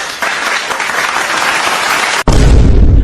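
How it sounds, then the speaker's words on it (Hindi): Loud audience clapping in a comedy skit scene, dense and continuous, then cut abruptly by a brief dropout before a heavier, boomier burst of applause resumes. "जोरदार ताली बजाओ इसके लिए"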